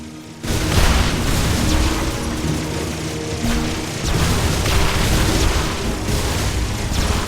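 Blaster shots and explosions from the Phineas and Ferb: Across the 2nd Dimension game on Wii, a loud continuous barrage of booms and bursts with dense rumbling action and no speech.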